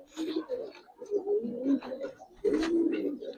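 Two male Giribaz pigeons, one with a reddish neck ring, coo in repeated low throaty bursts close by, with a few soft wing flaps mixed in.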